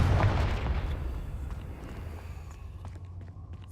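A Confringo fire spell bursts in Hogwarts Legacy with a loud, booming blast at the start, then a rumbling tail fades away over a few seconds.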